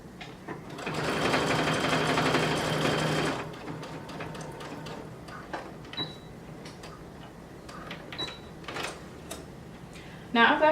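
A sewing machine stitches a jeans fly to a seam in a loud, fast burst lasting a few seconds, followed by quieter ticks and handling sounds as someone talks.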